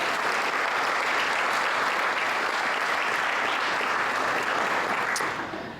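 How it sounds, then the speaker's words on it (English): A large audience at a chamber of commerce scholarship awards ceremony applauds the scholarship committee, a dense, steady wash of clapping that holds for several seconds and thins out at the very end. "Please give them a round of applause."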